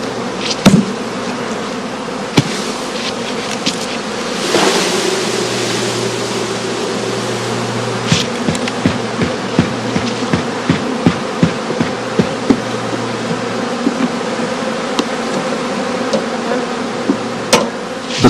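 Dense, steady buzzing of many honey bees from colonies in crates fills the air, with occasional clicks and knocks scattered throughout.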